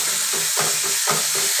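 Ground onion, garlic and chilli paste sizzles loudly in a hot frying pan, a steady close hiss with rhythmic scraping strokes of stirring about every half second.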